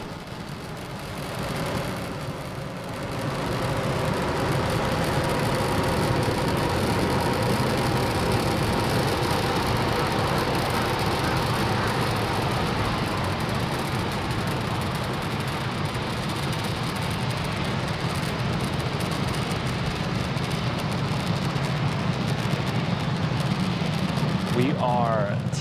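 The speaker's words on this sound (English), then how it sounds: "Falcon 9 has cleared the tower and is currently throttling down to prepare for max Q" A SpaceX Falcon 9 rocket climbs during launch ascent as its engines throttle down, a steady, heavy broadband roar that swells in after a couple of seconds and holds constant and loud to the end.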